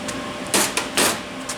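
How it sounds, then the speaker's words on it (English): A few sharp, close ratcheting clicks as a torque wrench tightens the thrust cap bolt on an MGB engine, in short bursts over a steady workshop background hum. "So I'm going to torque this cap up now."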